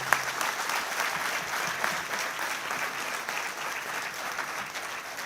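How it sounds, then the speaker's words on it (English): Sustained applause fills a university graduation ceremony at Amrita Vishwa Vidyapeetham's Chennai campus, many hands clapping in a steady, full roar that stays level from start to finish. "let's get this proceedings with a huge round of applause for all of our graduates"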